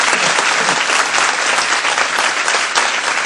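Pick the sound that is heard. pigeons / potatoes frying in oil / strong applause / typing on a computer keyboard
strong applause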